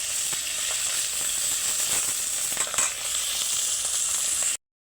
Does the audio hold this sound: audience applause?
no